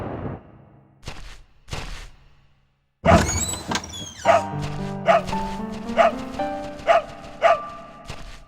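Dog barking in the horror video game Echo Night 2: a few scattered sounds, then a run of about six evenly spaced, clear barks close by, with a creaky ambient backdrop.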